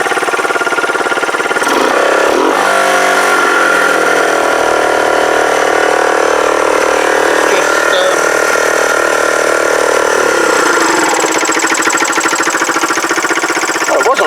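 A Kawasaki BN125 Eliminator motorcycle engine runs loud and close, with a steady rough putter that shifts in pitch a few times before settling back to a constant idle.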